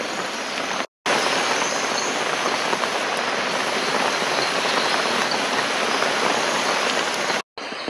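Heavy night rain pours steadily through the Costa Rican rainforest in a dense, unbroken hiss, briefly cutting out twice.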